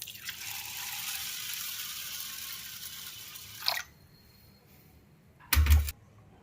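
Water sloshes and pours steadily for a few seconds, then quiets, with a brief splash near the end as rice and lentils are rinsed in a bowl.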